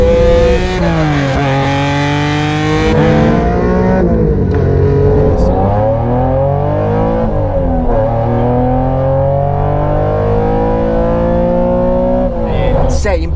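A car with a manual gearbox accelerates hard, its engine revving up through the gears with clear drops in pitch at each shift. The loud engine note is steady and continuous, and a voice speaks over it.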